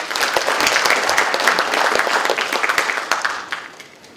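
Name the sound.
audience applause welcoming the party leader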